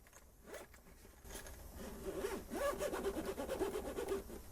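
A zipper on a thermometer's case is drawn open in a long rasping pull, quiet at first and growing louder and more clicky as it goes.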